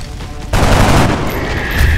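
A loud burst of automatic gunfire in X-Com Enemy Unknown erupts suddenly after a quiet moment and rumbles on as a dense, booming fusillade.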